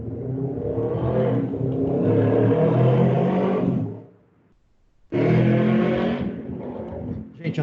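A motorcycle roars past loudly and close, its engine revving hard for several seconds. It cuts out briefly, then a second loud burst of engine roar follows.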